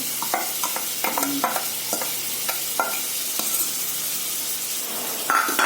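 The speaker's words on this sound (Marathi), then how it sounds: "यात आपण पहिल्यांदा बीट टाकून घ्यायचं बघा आवाज येते टाकल्याबरोबर" Grated beetroot dropped into hot ghee, setting off a close sizzle broken by clinks and scrapes of stirring, alone without speech.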